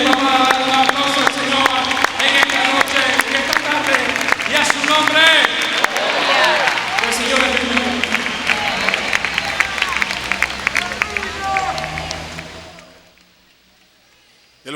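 A church congregation claps and cheers loudly and continuously during a Spanish-language worship service, voices mixed in, then the applause fades out toward the end.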